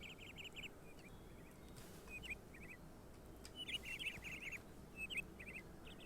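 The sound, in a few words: small birds chirping in Minecraft forest, video game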